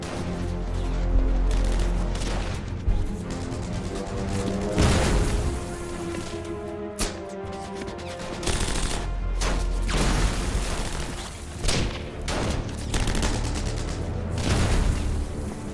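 Intense close-quarters infantry combat with rifles, grenades and bayonets near a fort, heard as dense, continuous gunfire with heavy booms and blasts across the whole stretch, loud and chaotic with sharp bursts between the explosions.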